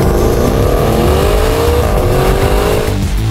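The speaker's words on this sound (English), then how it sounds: "But really, it's all about the engine noise" Loud, close engine of a car with a Ferrari-built 3.8-litre V8 revving on a wet road, the pitch climbing in rising sweeps, falling briefly, then climbing again, with no talk over it.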